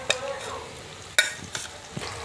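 Ground masala paste meets browned potatoes in a hot pan, sizzling steadily while a spatula knocks and scrapes in a few sharp strokes, close and fairly loud.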